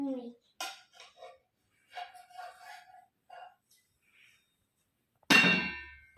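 A pan clanks loudly as it is set down on a gas stove in a home kitchen, one sharp metallic crash near the end after scattered quieter clinks and brief voices.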